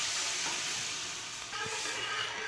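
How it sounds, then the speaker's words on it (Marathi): Loud, steady sizzling of hot oil tempering with a frothy hiss that surges as water is poured into the pan, continuing without pause. "मस्त पाणी टाकून घ्यायचं"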